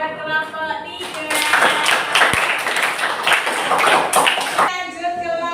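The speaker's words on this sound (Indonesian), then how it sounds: "beri tepuk tangan buat kelompok 3" Students in a classroom clap for a presenting group, a burst of dense applause lasting about three and a half seconds between stretches of speech from the teacher.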